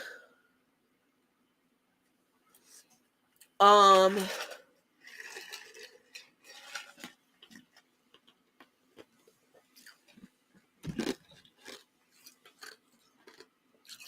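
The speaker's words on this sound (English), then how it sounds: "Sorry, I'm chewing ice in y'all ear." Ice chewed close to the mouth, giving a few sharp crunches between quiet stretches, the loudest early on and again near the end, with faint mouth noises between them and no talking.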